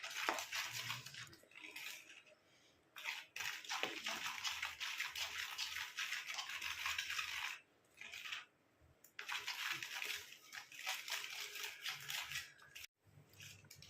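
Hair dye is stirred in a small bowl into a thick paste, a continuous wet scraping and mixing with brief pauses, close and fairly quiet, no speech.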